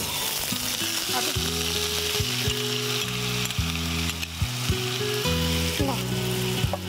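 Onion paste sizzling and frying in hot oil with whole cumin seeds, a steady crackling hiss heard under background music with sustained tones.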